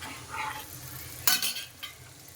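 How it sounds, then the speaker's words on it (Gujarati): Ginger garlic paste being stirred in a frying pan, a quiet sizzle broken by a couple of sharp scraping strokes of a spoon against the pan, close and without talk. "પછી પાછું એને થોડું મિક્સ કરવાનું છે"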